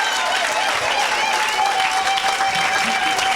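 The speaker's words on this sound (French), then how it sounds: "Clap your hands." Sustained applause from a church audience during a healing service, dense clapping and crowd noise filling the whole stretch at a steady loud level, with a faint tone running beneath.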